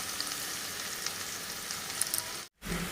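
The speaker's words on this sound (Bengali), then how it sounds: "আমি ডাইরেক্ট পেঁয়াজ কুচিয়ে দিয়ে দিচ্ছি তেলে" Chopped onions sizzle and fry in hot oil for a desi chicken curry, a steady close crackle that cuts out briefly near the end.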